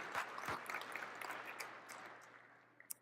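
A keynote audience applauds in a large hall, a dense wash of many hands clapping at low level that slowly fades out, with one sharper clap near the end.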